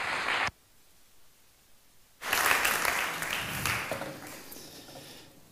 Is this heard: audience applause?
yes